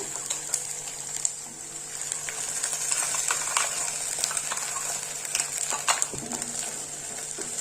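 Coconut and cashew paste frying in oil for a mutton masala curry, a steady close sizzle with scattered scraping and stirring clicks of a utensil against the pan.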